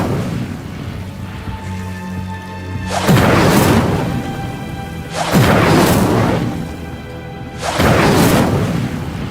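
A fire spell cast in Hogwarts Legacy erupts in three loud, roaring bursts of flame, each swelling over a low ambient hum and fading after a couple of seconds.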